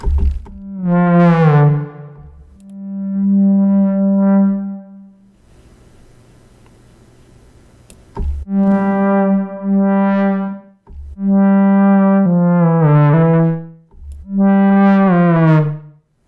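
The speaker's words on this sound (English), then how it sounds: "It already sounds like a brass instrument." A synthesizer plays sustained, buzzy brass-like notes in several phrases, with a short pause of near silence between them.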